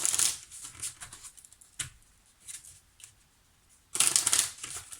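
Tarot cards being shuffled and laid out on a table, soft riffling and flicking bursts at the start and end with a few isolated card taps and slaps between, fairly close and quiet, no talking.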